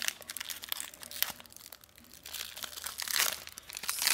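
Crinkly plastic foil of a Pokemon Sun and Moon booster pack being torn and crumpled open, close up, with irregular crackling bursts that grow louder toward the end, no talking.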